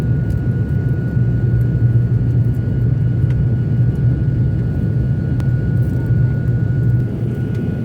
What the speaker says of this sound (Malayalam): ഫ്ലൈറ്റ് പൊങ്ങി